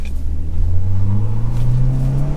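A 2025 Chevrolet Equinox RS crossover running on gravel in all-wheel drive mode, a steady engine drone rising slowly in pitch as it accelerates, with a low rumble of tires underneath and no talk.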